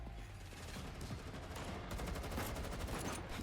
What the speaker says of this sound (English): The young soldier firing wildly through the hole in the wall quickly falls back